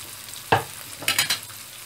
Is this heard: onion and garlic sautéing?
yes